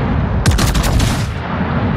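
Battleship main guns firing in World of Warships, a dense burst of deep booming shots clustered near the middle of the moment over a constant low rumble, with no talk.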